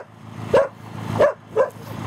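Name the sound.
dog barking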